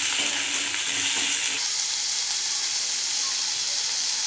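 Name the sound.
frying brinjal and onion pieces in a pan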